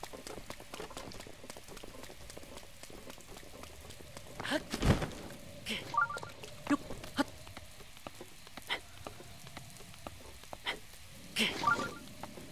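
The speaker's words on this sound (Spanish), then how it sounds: "Hostia, no, está lloviendo" Rain falling in The Legend of Zelda: Breath of the Wild, a faint steady patter with scattered droplet ticks and a few louder taps.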